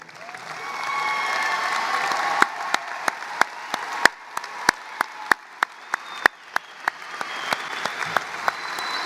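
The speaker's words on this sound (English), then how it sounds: "Would these students please stand and be recognized with your applause?" Audience applause fills a high school graduation ceremony, a steady wash of clapping from a large crowd with louder individual claps standing out near the front, continuing without talk.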